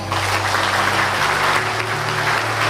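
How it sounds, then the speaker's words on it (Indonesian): Loud, continuous applause from a large audience at an indoor success-story event, dense overlapping claps filling the whole stretch without a break. "Sekali lagi beri tepuk tangan"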